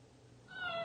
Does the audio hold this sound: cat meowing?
yes